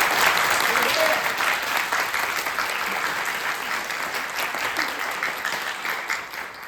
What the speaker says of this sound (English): so just a round of applause for the speakers